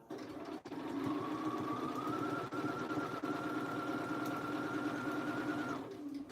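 A sewing machine runs in one steady, sustained stitching burst, stitching slowly over bias tape on a Belmore jacket through many layers of fabric; the motor's even hum is close and loud, with brief pauses at the start and end.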